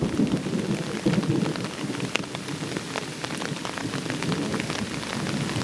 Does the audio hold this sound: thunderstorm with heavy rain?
yes